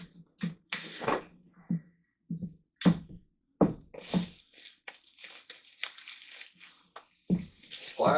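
Plastic bag holding accessories for an Eufy Make E1 printer is unpacked, giving several bursts of close crinkling and rustling, some sharp and brief, others longer, with quiet gaps between and brief voices mixed in.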